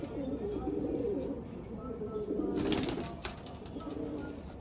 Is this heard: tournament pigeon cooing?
yes